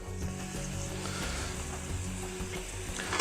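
Wild mushrooms sautéing in a pan make a steady close sizzle with light crackling and occasional stirring, quiet and without talk.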